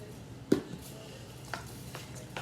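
Cornmeal batter mixed with a whisk in a bowl, giving soft, quiet, wet stirring with a few light knocks against the side, close and faint.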